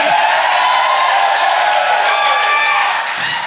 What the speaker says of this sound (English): This crowd is fired up.